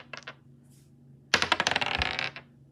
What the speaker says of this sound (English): I'm gonna roll different dice.